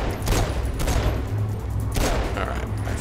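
Rapid, continuous gunfire fills a Saints Row IV firefight, dense crackling volleys rolling on without a break, loud and close.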